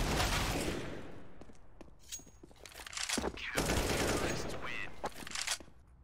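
Dense Counter-Strike: Global Offensive gunfire during a professional BLAST Premier match, with rapid automatic bursts and overlapping shots filling the whole stretch, loud and near, with a commentator's voice over parts of it.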